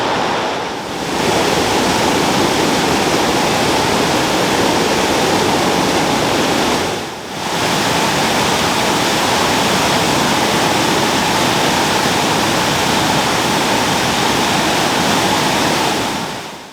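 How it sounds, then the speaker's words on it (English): Water of the River Severn rushing over a weir in Shrewsbury, a loud, steady, broadband roar that fills the whole stretch, dipping briefly twice before surging back. "never underestimate the power of Sabrina, the force that is going down this weir here in Shrewsbury."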